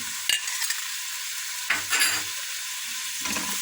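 Red pepper and tomato paste stirred in a hot pan. A steady sizzle runs throughout, broken by a few scraping spoon strokes close by, with no talking.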